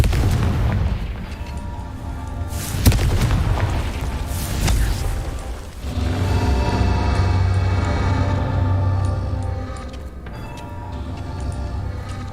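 A Confringo fire spell bursts in Hogwarts Legacy with loud, booming explosions, including sharp blasts early on, followed by a rumbling, rolling roar that lingers across the clip.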